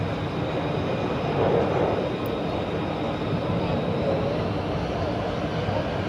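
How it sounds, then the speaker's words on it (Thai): A large aircraft flies over a Royal Thai Air Force air show marking the air force's 88th anniversary, producing a loud, steady engine roar that holds with no pause throughout, with no clear voices. "ว้าวเครื่องบินออกแล้วลำใหญ่อีกแล้ว"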